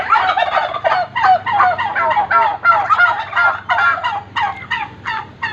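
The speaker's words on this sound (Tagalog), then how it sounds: "Yan natin dito yung nangingitlog na pabo." Turkeys on a small mini farm gobble loudly and close by, with repeated rapid bursts following one another almost without pause, heard alone with no talking.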